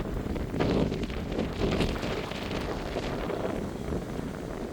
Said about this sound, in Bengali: বাতাস উঠে গেছে এদিকে হয়তো বৃষ্টি নামবে